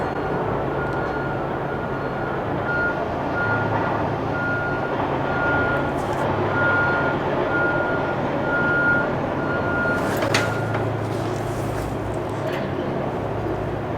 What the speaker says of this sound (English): Oh my God, this fucking beeping, man. It's like constant.